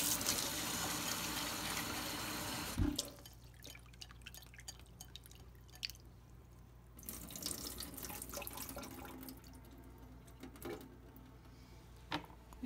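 Black beans rinsed under running tap water in a kitchen sink, a steady splashing flow at first, then quieter trickling and drips with occasional clinks.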